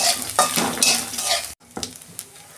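Panch phoron and grated ginger hit hot oil for a vegetable curry, setting off a loud, dense crackling sizzle with stirring scrapes; a brief pause comes midway, then a quieter sizzle resumes.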